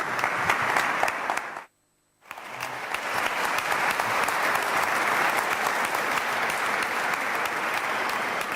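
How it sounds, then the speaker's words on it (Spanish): Audience at a Spanish youth political training panel on municipal politics applauding a newly introduced young mayor; steady, full clapping from a crowd, broken by a brief gap of silence, then continuing evenly. "Así que un aplauso."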